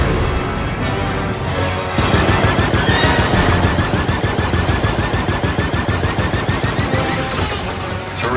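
A ship turret in the Star Wars Outlaws video game fires in a dense, continuous rapid burst, loud and close, with booming impacts layered throughout.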